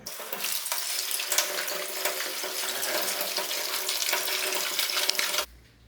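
Tap water runs into a bowl to soak homegrown pumpkin leaves, a close, steady, splashing gush lasting about five seconds before it shuts off.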